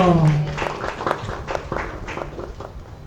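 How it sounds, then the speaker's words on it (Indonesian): Audience at a live cultural talk show breaks into applause after a door prize is handed out, a short burst of scattered clapping that starts loud and thins out over a few seconds. "Beri tepuk tangannya untuk Adik Elo."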